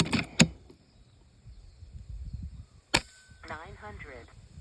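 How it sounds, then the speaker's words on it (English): Air rifle shots firing JSB Hades 15.89 pellets at a rock target outdoors, with two sharp cracks close together at the start and another sharp crack a few seconds later, then faint background chirps. "we'll shoot the JSBs at the top one"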